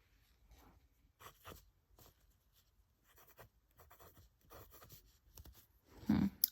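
A fountain pen with a 1.1 stub nib and J. Herbin brown ink scratches across paper in short, faint strokes, with soft pauses between marks and a slightly louder rustle near the end.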